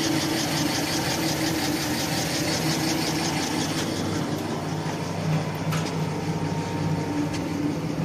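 JF21 45-ton pneumatic power press machine running steadily, a loud continuous mechanical hum and drone with a fast rhythmic chatter that holds without pause throughout.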